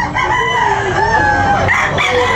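A rooster crows loudly and close at a chicken market in Tabunok, one long drawn-out call followed by shorter clucking bursts, with a busy crowd murmuring underneath.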